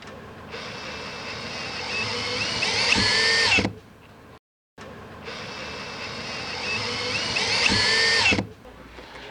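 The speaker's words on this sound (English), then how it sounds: "With my drill bit extension, I'm going to secure the top anchor tab." A power drill with a bit extension whirs in two bursts, securing a window jamb's top anchor tab, each spinning up and straining for a few seconds before stopping, with a brief silence between.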